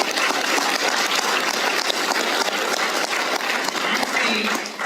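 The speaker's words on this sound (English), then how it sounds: "They deserve a round of applause" A crowd at a public address applauds its team, a dense, continuous wash of many hands clapping that holds steady and loud from start to finish, with no distinct voices rising above it.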